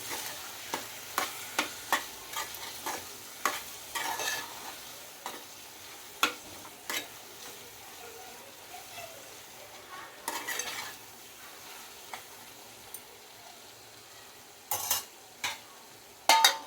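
Brinjal and mango curry stirred with chilli powder and salt in a pan: soft, low sizzling throughout, broken by regular sharp scrapes and taps of a spoon against the pan, close and fairly quiet, with no voice.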